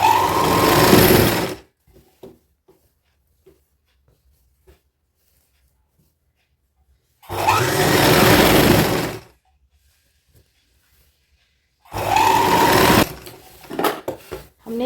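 Sewing machine stitching the side seam of a dress made from an old saree, three loud whirring bursts of rapid stitching separated by quiet pauses with faint handling clicks.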